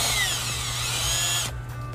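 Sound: electric drill with 12 mm socket removing a nut

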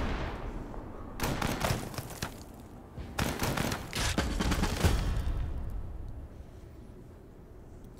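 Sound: gunfire from Total Tank General video game

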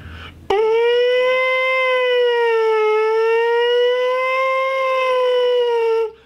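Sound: British siren imitated on trombone mouthpiece

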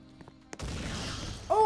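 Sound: explosion in a ship's engine room, video game

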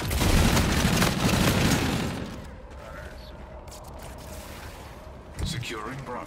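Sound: gunfire in video game Call of Duty Infinite Warfare

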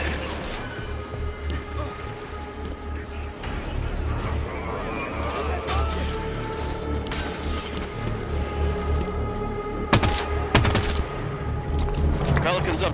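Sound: gunfire in the video game Halo 5: Guardians

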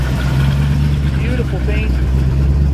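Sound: 1969 VW V8 Beetle engine rumbling

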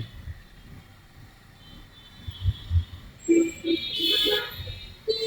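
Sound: vehicle horn honking on the road

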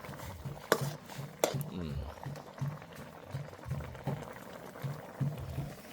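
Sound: eel soup boiling in pot

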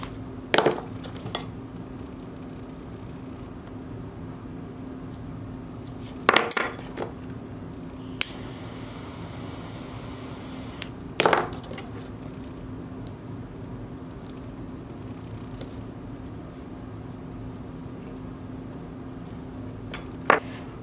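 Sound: butter knife squishing burned cord ends flat

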